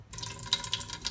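Water runs from a household tap in an off-grid home with somewhat low water pressure, a steady close splashing and trickling stream with no talking.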